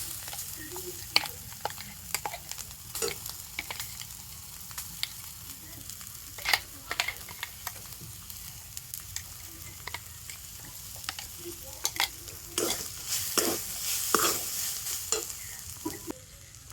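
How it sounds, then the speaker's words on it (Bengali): Chana dal paste stirred into a frying pan with grated coconut and other ingredients, giving a steady sizzle with repeated scraping and clacking of a spoon against the pan throughout, fairly close. "আর এবার আমি এর মধ্যে দিয়ে দেবো ছোলার ডালের পেস্টটা।"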